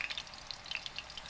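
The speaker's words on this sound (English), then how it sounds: "That is the sound of chapli kabab" Chapli kabab, a thin, crispy Afghan Pashtun minced-meat patty, frying in a pan: a steady close sizzle with rapid crackling pops, alone with no talk.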